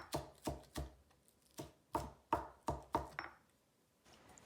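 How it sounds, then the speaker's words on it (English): A knife chops green onion into small pieces on a cutting board, about ten crisp, close thuds in an uneven rhythm that stop near the end. "Then we cut the green onion into small pieces."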